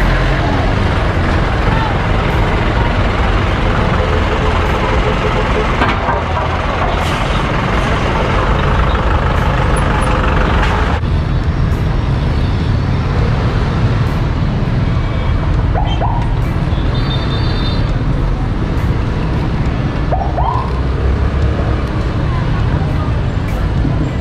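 Trucks and jeepneys rumble past on a busy road in Francisco, a steady dense roar of engines and traffic throughout with a voice talking over it.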